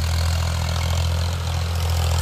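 Farmtrac 60 Powermaxx tractor engine held at 1700 RPM in a farm field, a loud, steady low diesel drone with strong rumbling throb throughout, no voices.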